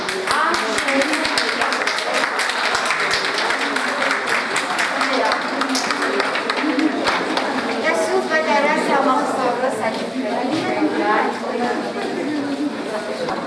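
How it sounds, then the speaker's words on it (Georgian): Applause and crowd chatter from an audience at a Georgian televised show, a steady dense wash of clapping mixed with voices throughout, with talk rising over it toward the end. "ძალიან მინდა, რომ აი თქვენი აპლოდისმენტები"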